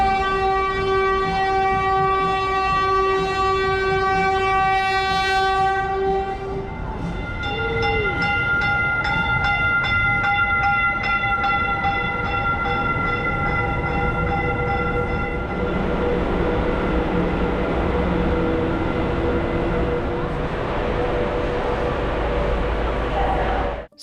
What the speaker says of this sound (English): here comes our train now, a Stadler Flirt very similar to the ones on TexRail.